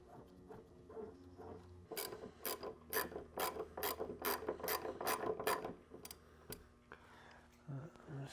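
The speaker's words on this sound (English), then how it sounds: "I'm just gonna get these snug" A ratchet snugs bolts on a carbon front splitter during an install on a Nissan 370Z track car. A fast run of crisp pawl clicks comes in quick bursts with brief pauses, close and fairly quiet.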